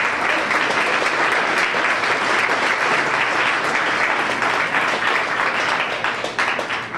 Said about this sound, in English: So let's give a round of applause to all of our coaches.